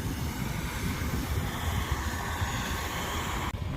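Tractor driving back and forth on a corn silage pile, pushing and packing it down; a steady, loud diesel engine rumble runs throughout with no pauses, cutting off abruptly at the end.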